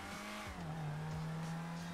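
A car on a test drive in GTA 5, its engine holding a steady droning tone with a couple of quick revs and faint tire noise, close and continuous.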